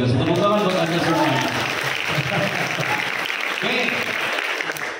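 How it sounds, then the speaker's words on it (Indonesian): Enthusiastic applause from a university audience at an in-house public speaking session on a Lampung campus, dense clapping throughout with a speaker's voice running over it. "Tepuk tangan buat Anda semua"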